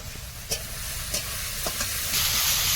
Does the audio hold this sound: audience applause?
no